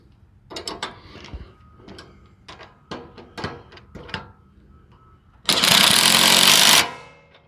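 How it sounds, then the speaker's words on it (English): Tightening 13 mm bolts on the steering linkage of a John Deere LA155 lawn tractor: scattered metallic clicks and ratcheting knocks, then one loud, sustained burst of a tool running for over a second before it stops. "now we're going to tighten up this linkage on the end here"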